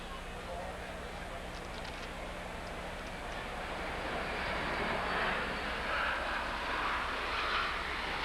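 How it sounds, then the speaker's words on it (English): An airplane passes over an outdoor baseball stadium during a 1989 Expos vs Mets game, a broad, steady rumble that swells through the second half beneath the crowd's murmur. "watches the plane go by"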